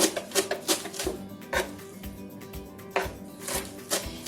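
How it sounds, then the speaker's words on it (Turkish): Sharp knife chops through parsley on a board in irregular bursts, close and fairly crisp, with brief pauses between runs of cuts. "Maydanozlarımı bıçakla şöyle ince bir şekilde doğrayacağım."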